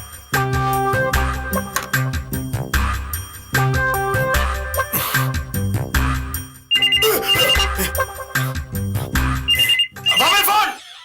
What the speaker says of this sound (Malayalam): Mobile phone.